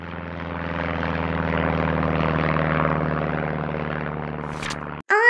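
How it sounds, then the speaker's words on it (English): A propeller airplane drones steadily and loudly for about five seconds, holding an even engine hum, then cuts off abruptly and is followed by a short, bright burst of another sound. "My best friend is plane."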